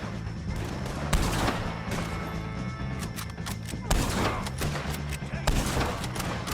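Dense gunfire from a shootout with O'Driscolls in Red Dead Redemption 2, with loud, close, overlapping gunshots and crashes in rapid bursts and brief pauses between them, and a few voices shouting underneath.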